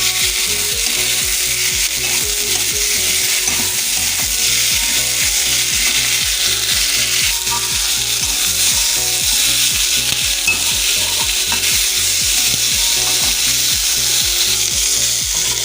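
Katla fish curry masala sizzles loudly and continuously in a pan, with a steady rhythmic scraping of stirring throughout, close up and with no talking.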